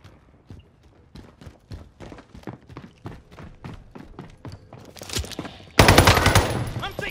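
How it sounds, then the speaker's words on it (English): Gunfire in Call of Duty: Modern Warfare Warzone comes as a rapid train of sharp shots, then grows into a louder, dense burst of firing near the end. "I'm taking fire."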